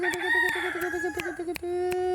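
A bantam chicken gives one drawn-out, tonal call that holds steady for about two seconds, close and clear, with sharp clicks ticking at a regular beat over it.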